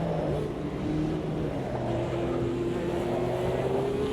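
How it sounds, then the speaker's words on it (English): A Formula car engine in a racing video game drones steadily throughout, its pitch slowly climbing as it accelerates, with a low rumble of other cars underneath. "Oh, listen to that Formula car. That sounds wonderful."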